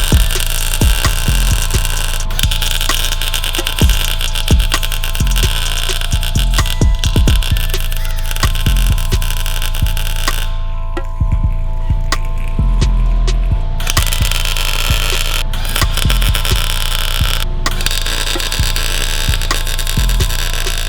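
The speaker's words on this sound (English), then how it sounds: "and weld it to all 4 of the spider gears" Welding the spider gears of a Miata differential to lock it: a loud, steady electric buzz with crackling pulses and a couple of brief pauses, with no talking.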